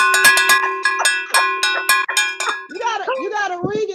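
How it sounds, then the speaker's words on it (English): A hand bell rung to celebrate closed sales deals, struck several times in quick bright clangs with ringing tails, followed by loud voices shouting over the fading ring. "Ring that bell, goddammit."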